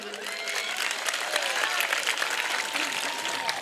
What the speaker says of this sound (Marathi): एकदा जोरदार आयोजन कमिटीसाठी टाळ्या हो द्या.